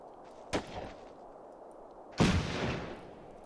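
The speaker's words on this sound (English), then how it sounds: "That was a rifle grenade." Explosions boom in the Final Blitzkrieg video game, including a rifle grenade: a short sharp blast followed by a heavier, louder detonation that rumbles and fades, with no talking.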